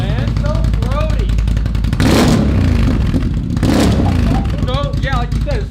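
Throaty car exhaust rumbling and revving loudly and steadily throughout, with two surges of heavier roar, while excited voices talk over it.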